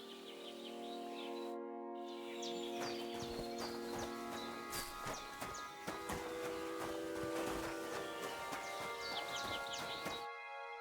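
Horse hooves clip-clopping on the ground in Kingdom Come: Deliverance II, with a steady plodding rhythm, close and clear, while birds chirp and ambient tones play behind.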